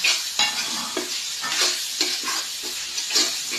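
Holy basil stir-frying in a hot wok in a noisy kitchen, with a steady loud sizzle and rhythmic scraping stirs every half second or so, close and without talk.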